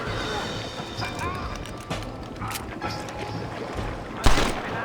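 Horses gallop in the Western video game Red Dead Redemption, with rapid hoofbeats among game shouts and gunfight noise, and a sharp loud burst near the end.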